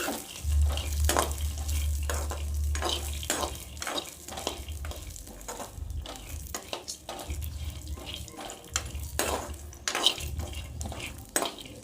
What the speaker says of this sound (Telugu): మీడియం ఫ్లేమ్లో వేయించుకోవాలండి ఇవన్నీ మీడియం ఫ్లేమ్లోనే లైట్గా మీడియం ఫ్లేమ్లోనే వేయించుకోవాలి